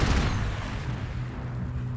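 A gunner unit firing in the Warhammer 40,000: Gladius video game: a heavy burst of booming shots at the start, fading into a rumbling tail.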